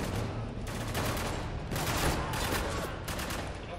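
Sustained gunfire in the war shooter Spec Ops: The Line, dense overlapping bursts of shots running throughout with brief lulls, loud and close, with no voices over it.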